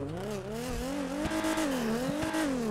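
A Nissan GTR in GTA 5 drones with a steady engine note that rises and dips as it revs, loud and close, with a few sharp transients and no talking.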